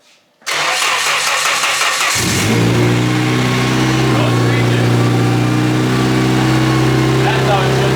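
Car with a KA-T engine build cranking and firing up, a brief starter whir followed by the engine catching into a loud, steady idle with a rev bump, close by, no speech heard over it.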